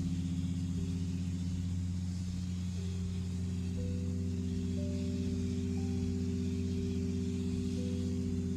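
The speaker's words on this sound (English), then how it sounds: "the steady hum of the engine carrying us higher" A light aircraft engine drones steadily as the plane climbs over green fields, a constant low hum with faint rising tones and no voices.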